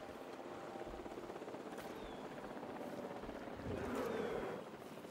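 A helicopter flies in the video game Jurassic World Evolution 2, producing a steady low rotor drone and whooshing noise that swells briefly near the end, with no speech.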